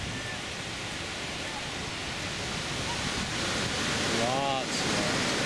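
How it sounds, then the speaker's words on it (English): Ocean surf on the beach at Playa Potrero, Costa Rica, late morning: a steady, loud wash of breaking waves and wind that swells slightly toward the end, with no clear voices above it. "This is the beach at about 11:30 on December 4th."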